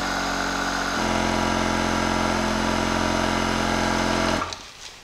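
Audew portable air compressor inflating a car tire: a loud, steady mechanical drone with a constant motor hum that runs unbroken and then winds down and stops near the end.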